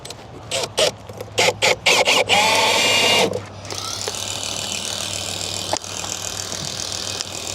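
A screw is driven into a 2x board on an ICF foundation block: a power drill whirs in short pulses, then in one longer sustained run, leaving a steady hum.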